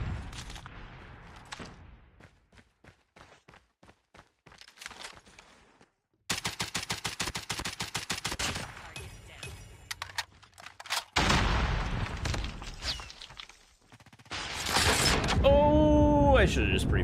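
Gunfire from a weapon in Call of Duty Mobile during a competitive hardpoint match, with bursts of rapid shots under game effects and a player commenting throughout.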